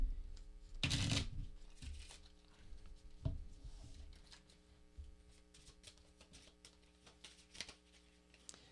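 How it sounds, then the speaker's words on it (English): A stack of Magic: The Gathering land cards is shuffled at a table, a loud riffling burst early on, then softer card shuffles and handling sounds. "I think I just shuffled this stack of lands."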